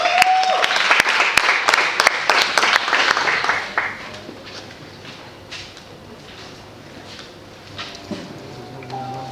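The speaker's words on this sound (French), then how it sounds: "Je vais vous demander d'applaudir plus fort pour l'unique et la seule Stacy Diela." An audience at a slam poetry performance breaks into loud applause for a performer. The clapping fills the first few seconds, then fades quickly to quiet room tone.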